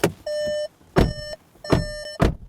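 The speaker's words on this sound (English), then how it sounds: "Door slam. Hopefully this doesn't beep." A car door slams several times, each thud followed or preceded by a steady electronic warning beep, close and loud.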